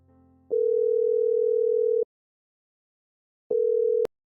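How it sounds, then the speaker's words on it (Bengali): Two long, steady electronic phone ringing tones sound alone, the first lasting about a second and a half, the second shorter after a pause. "প্রমোশন লেটারটা পেয়ে সবার আগে ও দীপকেই ফোন করে।"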